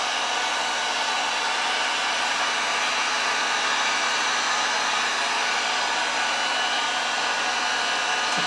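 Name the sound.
blower tool blowing air over resin geode art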